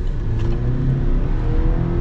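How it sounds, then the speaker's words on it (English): Chevy 2.7L turbocharged truck engine accelerating, a loud, close rising drone with a strong low hum and climbing tone throughout, no talking. "we got to get another acceleration because this engine's fun"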